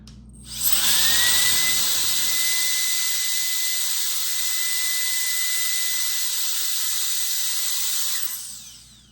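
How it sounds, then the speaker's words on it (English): A Euki X3 turbofan spins up quickly to a loud, steady high-pitched whine and rush of air while blowing at a plant. It holds evenly for several seconds, then winds down. "now for the turbofan, we're holding at the same 10 feet distance, and we'll see how much it moves the plant"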